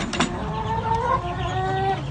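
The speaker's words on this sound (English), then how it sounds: "darkest place I can find at this time is the chicken coop" Chickens in a dark chicken coop cluck and murmur continuously at moderate volume, several birds overlapping in drawn-out calls over a steady background hiss.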